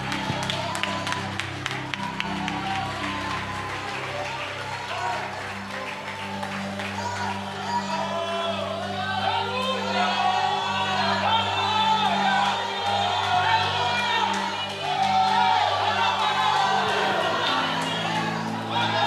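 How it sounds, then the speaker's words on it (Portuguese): Church congregation applauding and cheering during a sermon, a sustained crowd of clapping and shouts layered over sustained music, with voices rising throughout. "aplauda o Senhor em nome de Jesus"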